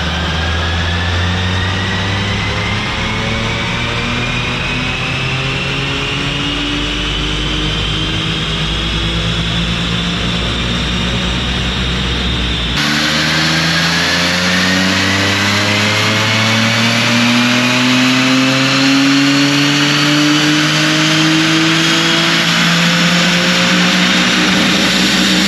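A manual Audi 3.0-litre supercharged V6 car runs on a dyno, climbing loudly through the revs in one long pull, then in a second pull after a shift, with a rising supercharger whine. The sound is close and sustained, with no talk.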